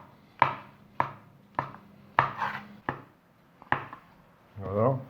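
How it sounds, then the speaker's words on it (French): Knife slicing mushrooms on a cutting board, six or seven sharp close chops at an uneven, roughly one-per-second pace, followed by a short scraping sound at the end. "on va couper les champignons,"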